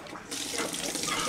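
Water gushing from a tap and filling up, a steady broadband hiss that starts abruptly and continues close and fairly loud, with no talking.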